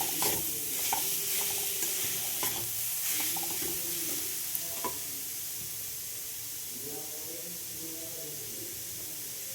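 Milk and coconut cook in a pan on low heat for bhapa pitha, a steady close hiss with stirring scrapes early on that settles into a smooth simmer, and a voice briefly in the background.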